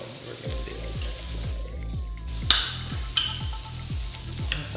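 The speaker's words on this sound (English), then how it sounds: "we're sauteing our onions. When you're sauteing, that means you wanna have it on high heat" Onions sautéing on high heat in a pan, a steady close sizzle and crackle with periodic stirring scrapes and a few sharper clatters, no talking.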